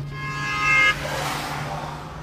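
A car horn blares in a steady held tone for nearly a second during a roadside encounter, then cuts off, leaving engine and road noise running underneath.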